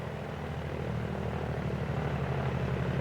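Steady droning piston-engine rumble of a Grumman F6F Hellcat, a World War II fighter, taxiing on the ground, with a continuous low propeller hum at moderate level, alone with no talk.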